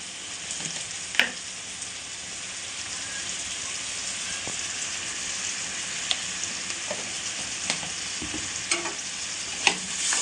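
Ginger paste and turmeric stirred in a hot pan for a fish curry, a continuous bright sizzle with sporadic spatula clicks and scrapes, close and fairly loud, no talking.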